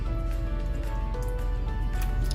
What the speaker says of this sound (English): put my hands in and squish the tomatoes